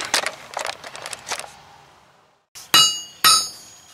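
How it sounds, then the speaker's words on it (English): Hammer blows knocking slag off welded metal: a flurry of quick metallic taps, a pause, then two loud ringing clanks. "So we'll take it over here and hammer on a little bit"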